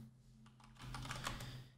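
Keys tapping on a computer keyboard in quick irregular bursts, moderately close, with a steady low electrical hum underneath and no talking.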